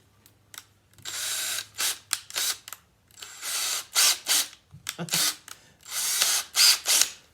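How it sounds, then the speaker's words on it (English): A power drill whirs in repeated short bursts with pauses between, close and loud, the bit grinding into metal as it drills out a rivet on an RV-14 aircraft. "So drill a little more."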